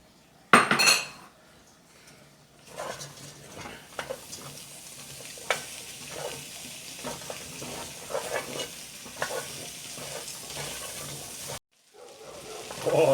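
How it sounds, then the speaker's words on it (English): Butter being stirred into a clam chowder base in a pot: a loud clank at the start, then sizzling with repeated spoon scrapes and clinks against metal, and a brief silence near the end. "we're just gonna stir that up"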